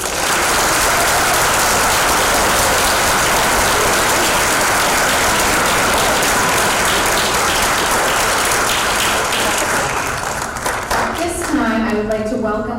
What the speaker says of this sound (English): Please join me, everyone, in a round of applause to celebrate this wonderful week.